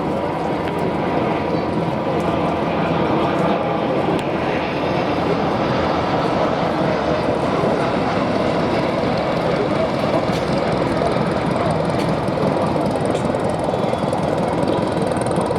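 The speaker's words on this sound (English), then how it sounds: "the most maneuverable fighting aircraft of the end of the 30s," A Gloster Gladiator biplane flies at the Duxford Flying Legends air show, its engine a steady, moderately distant drone that holds without break throughout.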